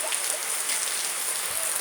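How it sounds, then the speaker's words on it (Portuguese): Heavy rain pours down in a steady, dense hiss, close and unbroken for a couple of seconds. "na nossa cidade, gente, tá chovendo muito"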